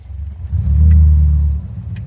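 A pickup truck's engine revs while driving, a close, loud low rumble that swells for about a second, holds, then eases back down.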